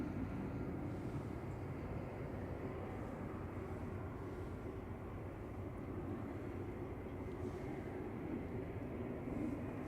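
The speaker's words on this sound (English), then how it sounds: "KLM 777 going over us. I can hear it." A KLM Boeing 777 passes overhead with a steady, fairly faint broadband rumble that stays even from start to finish, with no voices over it.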